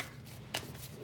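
Tarot cards being shuffled by hand, a soft papery riffle with a brief louder flutter midway, quiet and close, with no talking.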